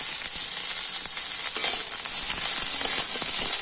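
Onions sizzling steadily in hot oil in a pan, a dense continuous crackle and hiss close by, with no voices.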